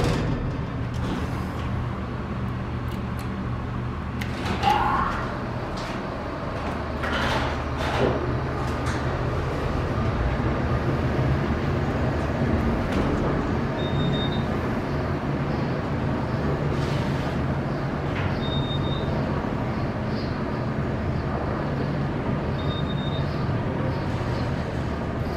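An Otis traction freight elevator in a former Korrick's department store, with doors closing and then a steady low mechanical rumble while riding, and faint high chime beeps repeating at intervals.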